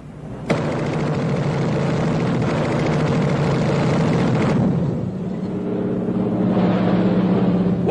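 A loud P-38 Lightning World War II fighter plane roars past, its propeller engine drone sustained and heavy, shifting in tone partway through as it moves away.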